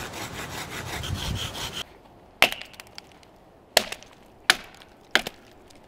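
A hand saw cuts through wood in quick, rhythmic strokes for about two seconds, then stops, leaving a few sharp, isolated knocks and taps close to the microphone.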